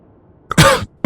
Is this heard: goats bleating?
no